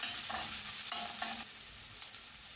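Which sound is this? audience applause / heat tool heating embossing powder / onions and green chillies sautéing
onions and green chillies sautéing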